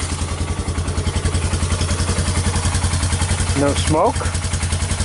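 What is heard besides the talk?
Bear Tracker 250 ATV engine idling with PZ30 carburetor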